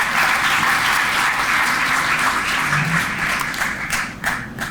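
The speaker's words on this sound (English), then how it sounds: "Give him a round of applause of appreciation." A roomful of people applauds a police commander at a district community police awards evening. Loud, dense clapping runs steadily throughout and only starts to break up into separate claps in the final second.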